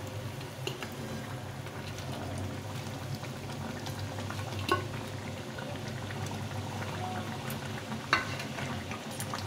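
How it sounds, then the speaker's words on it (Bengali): Pabda fish curry in a mustard and poppy-seed gravy boils steadily in a pot, a continuous bubbling simmer with occasional louder pops, close and alone without any talk. "এখন এই ঝোলটা ফুটে গেছে, মাছটা দিয়ে দেবো।"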